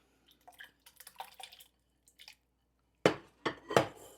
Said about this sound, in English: Then I'm going to add my vegetables in. I have 3 potatoes that I've diced up.